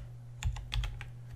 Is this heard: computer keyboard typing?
yes